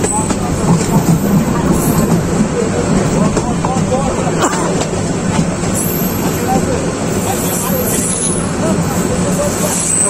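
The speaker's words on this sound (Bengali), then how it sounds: "আমাদের ট্রেন ফেনী জংশন ঢুকতেছে 12:40" The Mahanagar Provati Express, a Dhaka to Chattogram passenger train, rolls into Feni Junction with a loud, steady rumble and faint clatter of carriages under a background babble of passengers.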